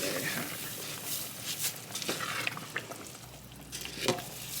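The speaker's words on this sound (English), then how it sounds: "Now we're going to add the rice." Microwaved, drained rice being added to a pot of sauce for Senegalese thieboudienne fish jollof rice, with soft pouring, stirring scrapes and muffled clatter over a low simmer.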